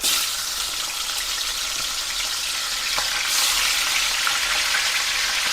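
Tilapia frying in hot oil in a non-stick pan gives a steady, loud, hissing sizzle that runs continuously throughout, with small pops and crackles scattered through it.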